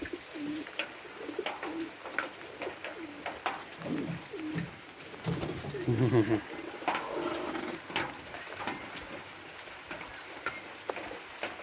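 King breed meat pigeons cooing in low, throaty bursts close by, with scattered clicks and a faint patter in the background.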